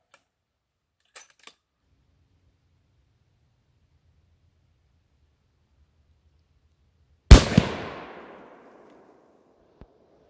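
A single loud 6.5 Creedmoor rifle shot, firing a Nosler 129-grain AccuBond Long Range bullet into water jugs and dry backstop material, cracks sharply and rings out into a decaying outdoor echo, with a faint distant knock after it and no talk.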